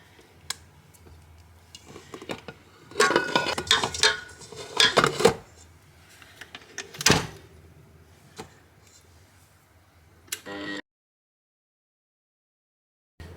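A utensil clinks and scrapes around a bowl while black cherry cheesecake batter is mixed and its sides scraped, with irregular close taps and scrapes, louder in the middle, then silence at the end.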